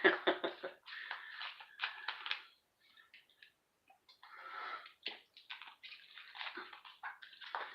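Drinking water being poured gives uneven bursts of splashing and trickling, close and moderately loud, with short pauses between pours.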